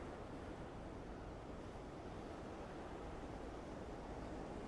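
Steady wind roaring across an open shoreline on a cold day, with surf blended into a constant broadband rush and no voices.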